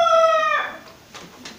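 A rooster crows loudly up close, its drawn-out, tapering final note fading by the half-second mark and leaving only faint background noise.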